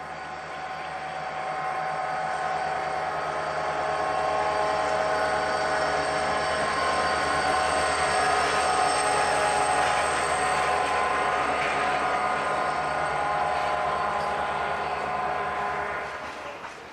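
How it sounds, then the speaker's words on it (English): An eastbound Norfolk Southern freight train rolls past on a railway line, a loud continuous rumble with rattling wagons and faint wheel squeal that swells and fades near the end. "we see an eastbound Norfolk Southern train on the former Wabash to the right"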